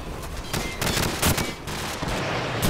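Gunfire rattles through a Call of Duty battle: dense bursts of rifle and machine-gun shots, sharp and loud, crackling in rapid clusters for a few seconds with no clear gaps.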